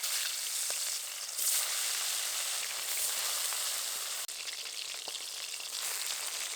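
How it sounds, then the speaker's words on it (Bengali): Nayana fish frying in hot oil, a steady close crackling sizzle throughout with a few faint clicks from handling. "বাকি মাছগুলো একইভাবে ভেজে নেব।"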